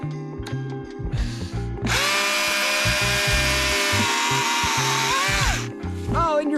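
A chainsaw with a worn, failing blade roars into a Christmas tree trunk outdoors, a loud sustained rev of several seconds between idling bursts and clanks.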